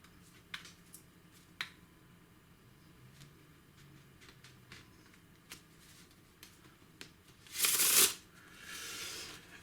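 A deck of playing cards being shuffled by hand for a card trick, with soft scattered riffles and snaps, then a louder burst of shuffling near the end, all without speech.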